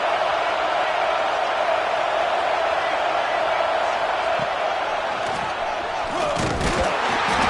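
A football stadium crowd at a Dolphins vs Chargers game roars steadily as the defense lines up for a red-zone stop, a broad continuous wash of far-off cheering with a few louder shouts and thumps near the end.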